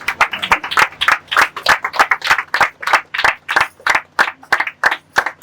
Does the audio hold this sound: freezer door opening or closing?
no